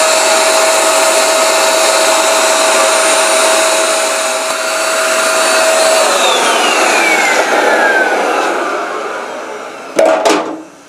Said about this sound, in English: the vacuum also will help that static grass to stand tall